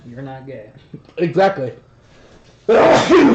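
A person speaks briefly, then a sudden loud, sharp burst of breath erupts near the end, like a sneeze.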